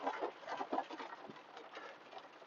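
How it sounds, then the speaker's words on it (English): Steady rain patters outdoors among cemetery mausoleums, a dense continuous hiss with scattered droplet taps and no voices, holding at an even moderate level throughout. "Rain still falls"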